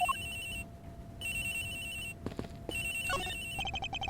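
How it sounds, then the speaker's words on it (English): A telephone rings in the Ace Attorney Investigations video game with repeated electronic trills in bursts separated by short gaps. A few chirpy game sound effects and blips break in between the rings, and there is no talking. "The ringing's coming from somewhere in here, sir."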